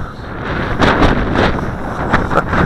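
Strong gusts buffet the microphone during a windy-day flight of an Xinxun X50 drone, a loud rumbling roar that swells and fades in irregular waves, with no voices.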